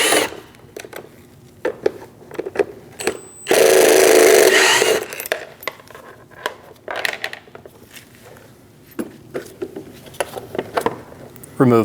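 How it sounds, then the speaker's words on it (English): A Phillips screwdriver or driver backs out the three screws holding a rear power window motor on a Dodge, with one loud whirring burst among quiet clicks and handling noises while a person talks. "We're going to use a Phillips head and we're going to remove the 3 screws for the motor."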